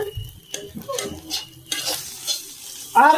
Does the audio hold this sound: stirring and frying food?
yes